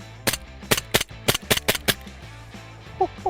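A full-auto Glock BB pistol fires in quick bursts of sharp, loud snapping shots, several clustered cracks followed by a pause, then a couple of faint metallic clicks near the end.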